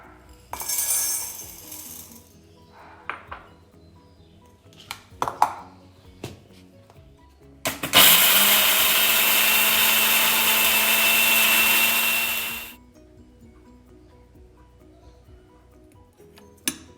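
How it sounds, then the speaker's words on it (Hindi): Whole tea masala spices, including nutmeg, cinnamon sticks, dry ginger and cloves, are ground in an electric grinder: a short whirring burst, scattered rattling clicks of hard pieces, then a loud, steady grinding roar lasting about four seconds that stops, with no voices. "सारे मसालों को हम अच्छे से ग्राइंड कर लेंगे।"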